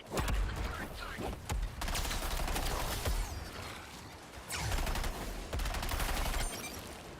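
Grenade blasts and gunfire from the Suicide Squad: Kill the Justice League video game, a dense, loud run of explosions and shots that swells and drops in bursts over several seconds, with a few sharp booms standing out.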